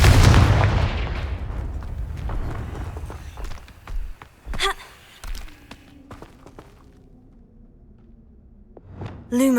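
A Confringo fire spell blasts in Hogwarts Legacy with a loud, booming burst at the start that fades out. Scattered sharp impacts follow, and a bright magical chime rises near the end.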